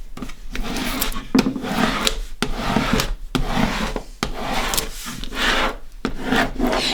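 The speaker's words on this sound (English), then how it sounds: "you want to burnish really, really well with your squeegee" A squeegee rubs back and forth over vinyl and transfer tape in repeated scraping strokes, close and fairly loud, each stroke separated by brief pauses in a steady rhythm.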